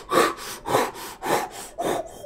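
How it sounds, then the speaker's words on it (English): A saw works through wood in four slow, even back-and-forth strokes, each a rasping rush of sound, close and fairly loud with short pauses between them. "you can indeed hear what sounds like sawing coming from the"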